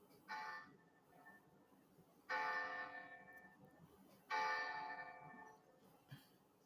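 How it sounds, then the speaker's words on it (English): Church bells at a basilica in Fatima ring out in three separate strikes a couple of seconds apart, each tone resonating and slowly fading, heard from a distance. "Is that bells ringing in the background? Yes, and the at the basilica."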